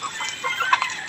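A chicken clucks in a short string of close, choppy calls with no one talking.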